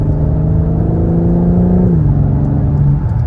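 A BMW M4 Competition with all-wheel drive pulls hard from inside the cabin, a loud steady engine drone rising and then dropping sharply at a quick gear change before settling again.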